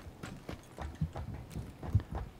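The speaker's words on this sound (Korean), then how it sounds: "발소리 개 많다" Rapid footsteps from several players in PUBG: Battlegrounds near a building, an irregular run of soft thuds with a couple of sharper, louder impacts, heard without talk.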